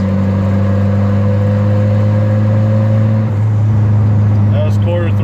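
A turbocharged Volvo cruising at quarter throttle in fourth gear gives a loud, steady engine drone heard from inside the car, holding an even tone throughout with a slight shift near the middle.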